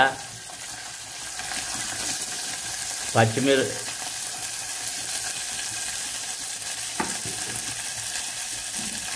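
Onions, curry leaves and tempering seeds fry in a couple of spoons of oil with a constant dense sizzle. A brief stir or clank cuts in a few times, and a voice is faintly present.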